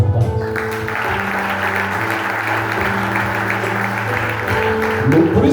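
A church congregation applauds steadily throughout, the clapping layered over sustained musical tones and a faint voice.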